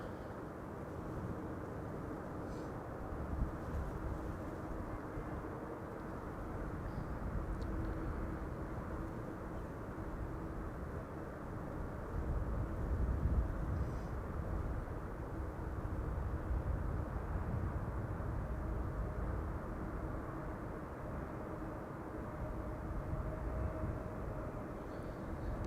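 A brand-new airliner, registration PH-YHC on flight 5932 from Granada, arriving at Amsterdam Schiphol on a sunny day, heard as a long, steady low jet rumble from a distance that swells slightly midway and never fades out.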